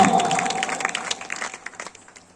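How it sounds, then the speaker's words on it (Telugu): A church congregation in Ongole clapping hands together, a dense round of applause that starts strong and tapers into scattered claps by the end, with no speech over it. "చప్పట్లు కొట్టండి"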